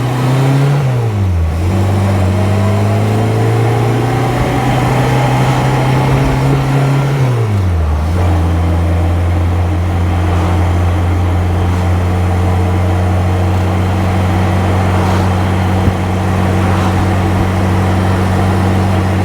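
A supercharged 1275 Super Bugeye on 14-inch wire wheels drives steadily with a loud, close engine drone and supercharger whine, dropping pitch twice as it shifts gears and then pulling on at a constant pace.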